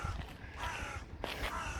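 Single crow caws twice in harsh, raspy bursts, fairly close and alone with no talk.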